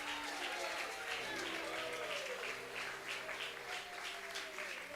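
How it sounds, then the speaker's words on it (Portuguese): A church congregation bursts into sustained applause, a dense steady roar of many hands clapping close and loud, with voices and music tones running underneath. "Quem crer, aplauda Jesus Cristo de Nazaré."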